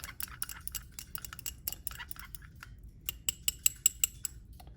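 Stirring a 9-fluorenone reduction mixture in lab glassware, with a run of sharp clinks and taps that starts scattered and settles into about five evenly spaced, louder strikes near the end, close by over a quiet background.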